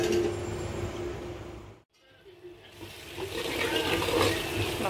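Water is poured off cooked rice in a kitchen, a continuous splashing gush that pauses briefly, then resumes and builds louder.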